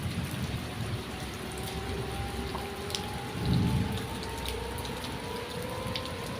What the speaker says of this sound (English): Rain lashed against the windows, and thunder reverberated through the house like an ominous heartbeat.